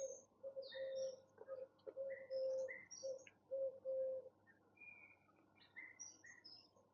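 Grey pigeons coo outdoors in soft repeated low phrases, mixed with scattered higher chirps from other birds, moderately near with no talk.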